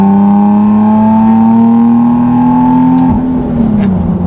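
A supercharged Nissan 370Z engine drones loud and close, its pitch climbing slowly before a brief dip and recovery, like a gear shift under acceleration.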